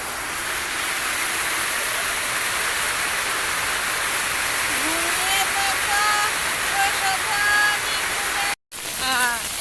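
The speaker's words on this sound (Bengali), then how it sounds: "অনেক বৃষ্টি হইতেছে আর ঠান্ডা" Heavy rain pouring down outdoors on a day with empty roads, a dense, steady wash of noise with a few faint bird-like chirps midway and a brief dropout near the end.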